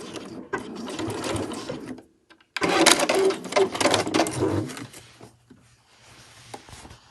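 A sewing machine stitches a cushion cover seam, finishing with a back stitch: bursts of rapid mechanical whirring with brief pauses and a short gap, running close and loud, with a lower hum near the end.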